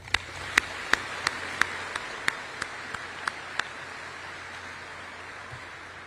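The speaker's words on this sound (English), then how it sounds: "give them a round of applause" Applause at a T-7A Red Hawk arrival ceremony in an aircraft hangar comes as a short run of sharp, evenly spaced single claps that taper off after a few seconds, leaving a faint roomy hum.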